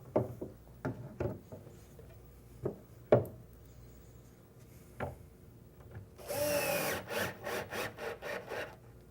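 Isolated knocks and taps from handling a cabinet door give way to a steady, buzzing burst of a power driver sinking screws through a hinge into a wooden face-frame cabinet. The driving noise is close and pulses in short repeated pushes.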